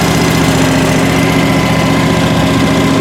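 Engine of a 2019 John Deere 652R QuikTrak stand-on mower running loud and close at a steady idle, a constant rumbling drone with no pauses and no talk over it.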